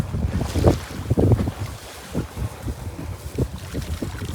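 Strong wind buffets a fishing boat rocking at sea, with gusty rumbling microphone wind noise and irregular low thumps and sloshing, loud and close, with no talking.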